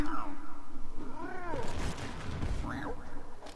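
A cartoon cat in the Lego Batman 3: Beyond Gotham video game meows several times in rising and falling calls, close and clear, over busy game sound effects.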